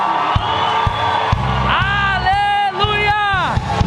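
Church congregation cheering, whooping and clapping to welcome newcomers, a loud crowd with sharp claps throughout and rising, sliding whistles or shouted cheers swelling through the middle.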